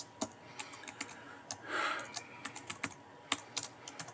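Fast, irregular keystrokes clatter on a computer keyboard, crisp and close, with a brief breathy rustle partway through; no talking.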